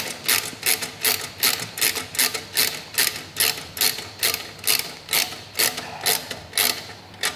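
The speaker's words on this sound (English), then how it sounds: "now we're going to come up here and I'm going to tighten up the exhaust clamps" Exhaust clamp nylock nuts on a Yamaha YZF-R1 are turned with a rapid, regular series of sharp metallic clicks, about two per second, close and steady like a ratcheting tool.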